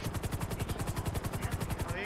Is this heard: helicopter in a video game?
yes